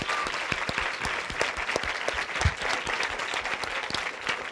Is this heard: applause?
yes